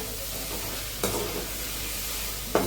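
Chicken sautéing with tomato and onion in a pan, a soft steady sizzle with two brief stirring scrapes, quiet and close with no speech.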